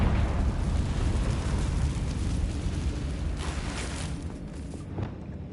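Confringo blasting spell going off in the Hogwarts Legacy video game, a loud sustained rumbling explosion with crackling bursts that fills the whole clip and slowly tails off near the end.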